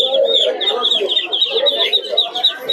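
Kadaknath chickens at a bustling poultry market give repeated clucks and calls, a busy overlapping chorus that carries on steadily throughout.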